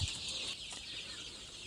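Chickens on a small poultry farm holding about 1500 birds, clucking and crowing in a dense nearby flock, a loud steady chorus with no talk.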